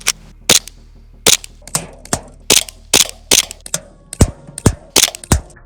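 Rapid, sharp cracks from a gun firing at a can, about a dozen close, snappy shots in quick irregular succession, some with faint metallic pings.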